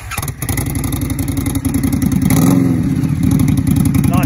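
An Indian Scout motorcycle fitted with black Magnum slip-on exhaust mufflers revs up close, a deep, steady, pulsing rumble that swells louder partway through and holds there, with no talking.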